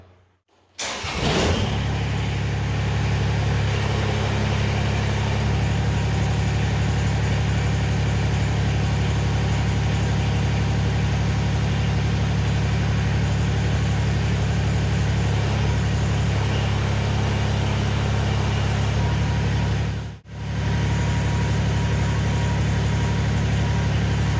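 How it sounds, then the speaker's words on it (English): A tractor engine cranks, catches and settles into a steady, even idle close by while the three-point hitch is raised, with one brief dip in the sound around the twentieth second and no talking. "So I'm going to start the tractor up, I'm going to raise it 3-point"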